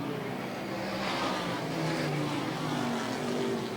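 Race cars roar around the oval at Airborne Speedway in Plattsburgh, New York, a dense, steady wash of engine noise with rising and falling pitches as cars pass.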